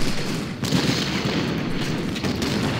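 Massed musket volleys from Ultimate General Civil War battle, a continuous rolling crackle of gunfire with sharper bursts, loud and dense with no talk.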